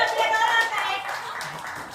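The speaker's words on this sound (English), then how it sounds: "Keep clapping" An audience at a live women's event keeps clapping in a dense, continuous wash of applause, with a voice talking over it.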